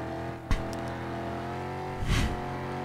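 A car engine in a video game revs briefly, with a short burst of acceleration near the end, fairly quiet and alone with no talk.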